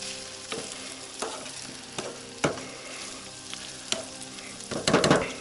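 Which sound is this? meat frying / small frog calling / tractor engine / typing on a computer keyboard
meat frying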